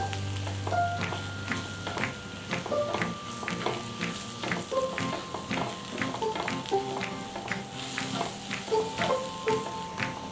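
Spice powder mixture for prawn fry, made of chili, coriander and cumin powders, is stirred in a hot pan, giving a soft steady sizzle with repeated scraping strokes, close and moderately quiet, with no talking.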